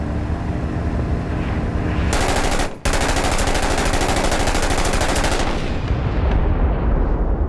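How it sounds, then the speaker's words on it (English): Gunfire fills a firefight in the war shooter Six Days in Fallujah: a loud, dense burst of rapid automatic shots, a brief cut, then more sustained firing that fades into a rumbling tail. "I just grenade launched it"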